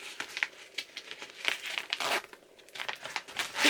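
A zippered bag from a beauty mystery box crinkles and rustles as it is handled, with a steady run of close, papery crackles and small bursts that swell louder near the end.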